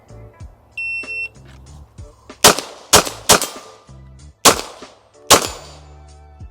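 A Walther PDP Steel Frame Compact pistol fires about six sharp, loud shots outdoors, spaced irregularly around half a second to a second apart, with electronic beeps from hearing protection or a timer in the quieter gaps.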